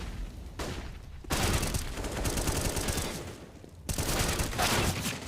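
M4A1-S rifle fire in a Counter-Strike match on the Mirage map, rapid suppressed bursts at moderate level, broken by brief pauses and resuming in tight volleys.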